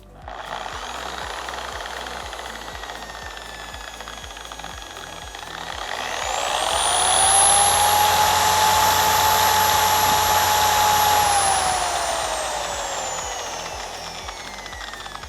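A dual action car polisher running at speed setting 1, a continuous close motor whine with a steady buzzing hum that rises in pitch and loudness midway, then holds and eases slightly, with no talking.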